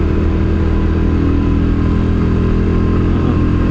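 Royal Enfield motorcycle engine cruising at about 60 near full throttle during its wear-in phase, a loud, steady, continuous drone picked up from inside the helmet, with no voices.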